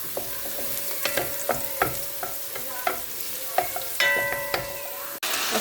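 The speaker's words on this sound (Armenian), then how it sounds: "Այստեղ աղջիկներս լոբի եմ տապակում" Beans fry with garlic in vegetable oil in a pan; a soft, steady sizzle runs under a dozen or so distinct, evenly spaced scrapes of a utensil stirring, with no talk.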